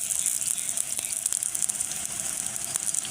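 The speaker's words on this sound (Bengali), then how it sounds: "এখন একটু হালকা করে ভেজে নেব।" Spices frying lightly in a pan with ginger and garlic paste nearby, a steady soft sizzle with faint crackles, close and continuous, no talking.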